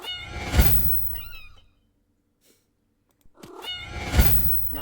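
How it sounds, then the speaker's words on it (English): Soft kitten meows from a video game sound effect, two short bursts of mewing separated by a stretch of near silence, quiet and close. "Not sure if I'll keep the quiet meowing kitten sound, but maybe."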